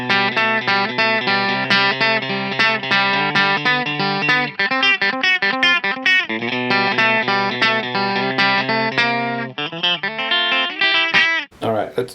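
Clean bridge-pickup tone from a Donner DTC-100 Telecaster-style electric guitar, with bright, twangy chords and plucked notes played in choppy rhythmic bursts, loud and close with no talking.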